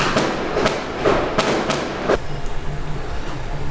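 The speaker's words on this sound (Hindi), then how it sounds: "पटाखा फायर वर्क स्टार्ट हो गया था" Firecrackers and fireworks from a wedding procession pop in a ragged series of sharp bangs, five or six loud cracks spaced about a third of a second apart, over a steady outdoor background rumble.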